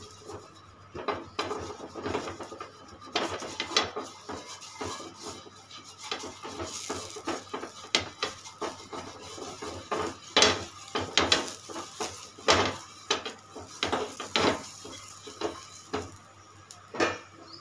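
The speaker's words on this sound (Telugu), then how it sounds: "ఒక చిన్న ఉల్లిపాయని కత్తికి ఇలా గుచ్చేసుకున్నాను, దాంతో పెనం మొత్తం ఆయిల్ని స్ప్రెడ్ చేసుకుంటున్నాను" An onion speared on a knife is rubbed across a hot oiled pan, making repeated scraping, rubbing strokes with occasional light metallic clinks. The sound is fairly quiet, with no talk.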